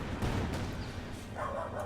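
Dogs barking in the background of a Company of Heroes 2 battle, a steady low murmur of yaps and woofs under continuous battlefield noise, never standing out sharply.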